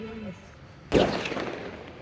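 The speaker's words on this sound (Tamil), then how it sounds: "பட்டாசு வெடிக்குதுல்ல, ஓவர் எக்ஸ்போஸ் ஆகுது." A single sharp firecracker burst outdoors on a trip in Munnar, one loud crack with a short ringing decay, preceded by a faint voice.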